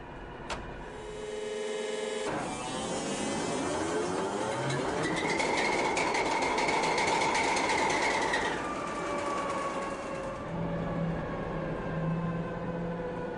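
A Ludmilla diesel locomotive with a Kolomna 5D49-16 V-engine starts and revs up, a loud rising drone and whine that holds strongly, then eases back to a lower idle.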